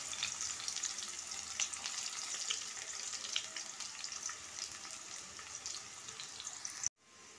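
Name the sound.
sliced onions frying in oil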